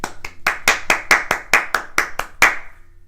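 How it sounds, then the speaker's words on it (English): Hands clapping about ten times in a steady, even rhythm, each sharp clap close and distinct, with no talking over it. "Right before I turn on the camera and I start filming, I clap"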